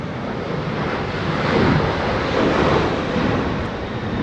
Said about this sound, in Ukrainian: позаду мене зараз літак один злітає